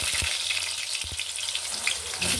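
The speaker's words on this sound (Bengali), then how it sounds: "দিয়ে নিচ্ছে আলু ভাজার জন্য" Potatoes fry in oil in a pan with a steady, close sizzle, plus a few soft knocks near the start.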